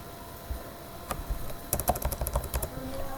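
Clicky keystrokes on a computer keyboard, scattered taps and then a quick burst of typing while a MySQL table is being named, close up and moderately loud, with no talking.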